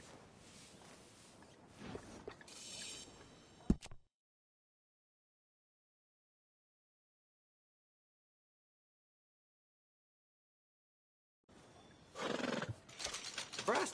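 A horse in a video game whinnies amid hoof clops and rustling, then the sound cuts to complete silence for several seconds before noisy activity resumes.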